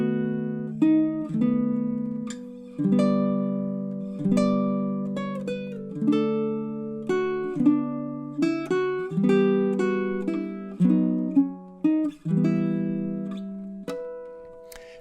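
Greensleeves closing measures 12 to 16 on a baritone ukulele, a chord melody of ringing plucked chords and single notes in a gentle lilting rhythm, up close and unaccompanied.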